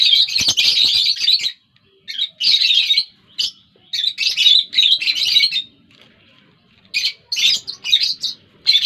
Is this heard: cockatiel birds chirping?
yes